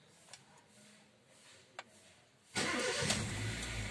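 A car engine cranks and catches at about 2.6 s, then runs at a steady, loud idle after quiet ticking and a couple of faint clicks.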